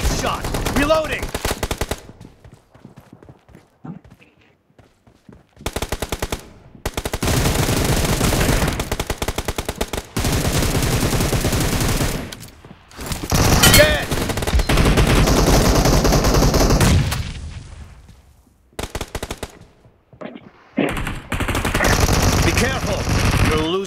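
Machine gun fire in a PUBG Mobile team deathmatch game, long loud bursts of rapid automatic shots in repeated volleys separated by brief gaps, with game announcer voice lines over the action.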